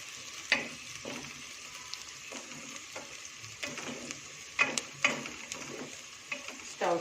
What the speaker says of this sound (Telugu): ఈ ఉల్లిపాయ ముక్కలు ఆయిల్లో చక్కగా వేగాలి